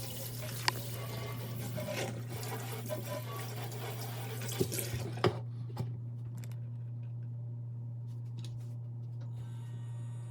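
Water runs into a sink while hair bundles are rinsed, a faint steady flow over a constant low hum; the running stops about halfway, leaving the hum and a few soft clicks.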